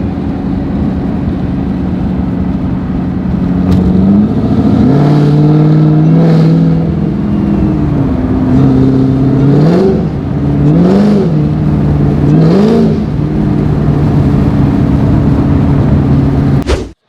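A 750hp Camaro ZL1 with Kooks headers roars loudly and close, its exhaust note climbing in repeated rising revs across several gear pulls, each sweep dipping and rising again before it abruptly cuts out.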